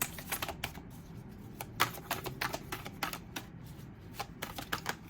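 Tarot cards are shuffled quietly and close by, a run of quick, crisp riffling taps and flicks in an uneven rhythm, with no voice over them.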